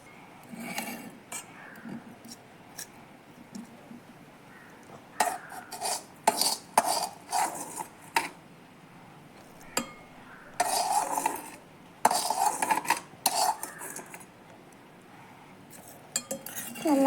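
A spoon clinks and scrapes against a cooking pot while stirring a hot mango kuzhambu after tempering, in quiet irregular bursts with soft pauses between.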